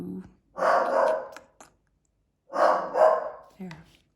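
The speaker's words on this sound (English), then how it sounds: "that's why he's barking" A house dog barking at dogs seen on the television indoors, two loud bursts of deep barking close by, separated by a brief pause, with some breathing.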